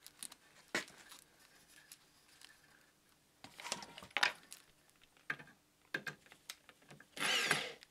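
Screws turn as a wooden insert is fitted onto stair spindles during a newel post and baluster installation, giving short scattered creaks, clicks and scraping bursts, close and fairly quiet, ending in a longer grinding twist.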